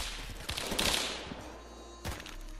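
Rapid bursts of gunfire in the Roblox shooting game Phantom Forces, a dense loud volley through the first half-second to about 1.6 s, then another sharp burst near 2 s, with no talking.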